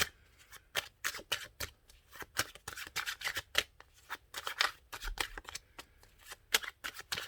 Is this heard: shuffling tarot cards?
yes